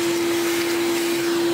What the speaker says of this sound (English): So if you have some sort of hoover brush, just hoover the inside,